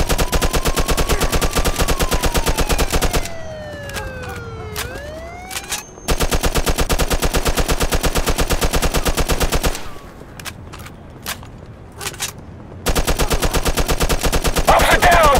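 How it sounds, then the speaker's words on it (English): Gunfire in the Mafia 2 video game: long, loud bursts of rapid automatic fire, broken by short pauses with scattered single shots, over a wailing police siren. "Some nut job here shooting a gun."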